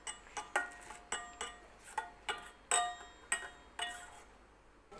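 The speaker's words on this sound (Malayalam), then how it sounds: "നമ്മളിപ്പോൾ ഉള്ളി ഇട്ടിട്ട് നമുക്കിത് മിക്സ് ചെയ്ത് കൊടുക്കാം." Chopped onion mixed into beaten eggs, a quick train of light clinks and taps of a utensil against a bowl, near and fairly quiet, settling into a few slower knocks with no speech.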